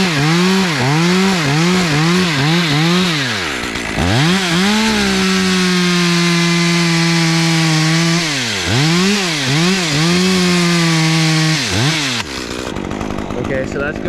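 A chainsaw cuts a conventional notch into a tree. The loud, close engine revs in quick repeated surges, holds a steady high whine while cutting, then returns to surging revs before it stops.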